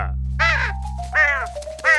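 A cartoon crow caws three times in harsh, nasal, drawn-out calls, loud and close, with a low steady hum underneath.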